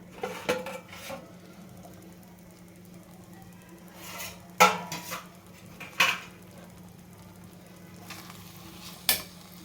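A spoon scrapes and stirs wheat rava upma inside a metal pot in several separate bursts over a faint background hum, with a soft sizzle.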